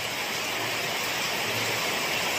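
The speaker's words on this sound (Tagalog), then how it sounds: "Ang ulan" Steady outdoor rain falls, a dense continuous hiss with no distinct drops standing out, moderately loud and unbroken throughout.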